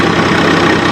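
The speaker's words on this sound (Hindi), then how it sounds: "अगर ज़्यादा दबाव आ जाता है ना तो आवाज़ के अंदर काफ़ी परिवर्तन आता है ट्रैक्टर के।" A Swaraj 855 tractor engine labours under heavy load during a wheat harvest, a loud, steady low diesel drone with a rough knocking throb, heard close and alone.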